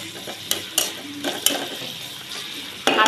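Cut pieces sizzle in hot oil in a pan for a pumpkin-greens dish, with a steady frying hiss broken by sharp clinks and scrapes of a utensil stirring against the pan.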